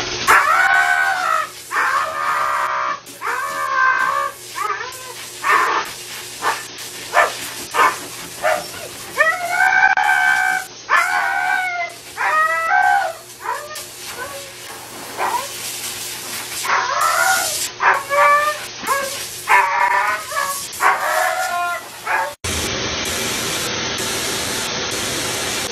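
Huskies in a grooming shop howl and bark in repeated, drawn-out bursts that rise and fall, close and loud, carrying on almost continuously with brief gaps before cutting to a quieter stretch at the end.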